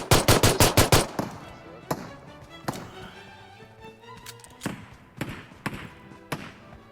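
Rapid bursts of video game gunfire open the scene, a quick string of about eight loud shots, followed by scattered single shots and thuds during a chaotic firefight, with voices talking over the action.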